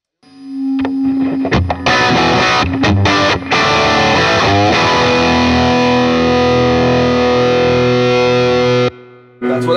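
A cranked-up guitar amp roars with loud, heavily distorted sustained notes and chords, close and continuous for several seconds before cutting off.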